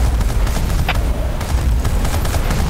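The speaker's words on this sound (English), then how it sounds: "I'm getting like artillery" Artillery fire in the video game Battlefield Bad Company 2, loud continuous rumbling booms and bursts packed closely together with crackling impacts over a heavy low-end roar.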